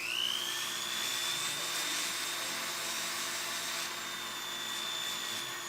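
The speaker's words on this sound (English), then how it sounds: "I'm going to give it the inside a little polish" A jeweler's polishing wheel spins against the inside of an emerald ring band, a steady high-pitched whine with a slight rising pitch, loud and close, running without a break and with no talking.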